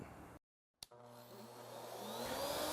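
A router cuts a recess with a dish carving bit through a template jig clamped to a table, starting after a brief silence with a whine that rises steadily and stays loud and continuous.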